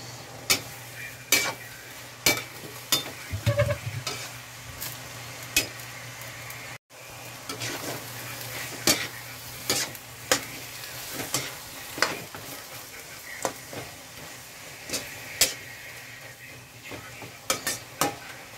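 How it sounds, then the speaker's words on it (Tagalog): Rice being sautéed and fish frying in a pan give a steady sizzle, broken by regular sharp scrapes and clacks of a utensil against the pan, heard alone without talk. "Sa kabilang side, magigisa tayo ng kanin at paprito ng isda."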